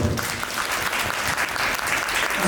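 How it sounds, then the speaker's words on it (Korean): Audience at a university admissions study seminar applauding to welcome a speaker, a loud, dense and continuous round of clapping throughout. "큰 박수로 맞이해 주십시오"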